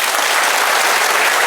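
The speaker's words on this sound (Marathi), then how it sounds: "टाळ्या एकदा जोरदार होऊ द्या." Vigorous audience applause at a teachers' honour ceremony, dense and loud throughout with no gaps, a large crowd clapping steadily.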